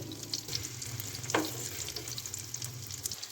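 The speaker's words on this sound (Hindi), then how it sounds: "इसको मीडियम से लो फ्लेम पे रख के हमने कुक करना है।" An apple breakfast pancake frying in a pan over medium-low flame, a soft, steady sizzle with a brief sharper crackle partway through, fairly quiet and close, no voices.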